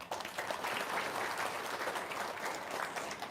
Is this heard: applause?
yes